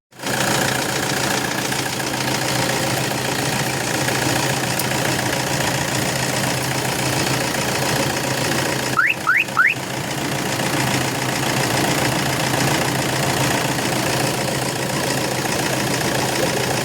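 Car engine idling steadily in a workshop while its oil level is checked on the dipstick, a constant loud mechanical hum with a brief clatter partway through and no talking.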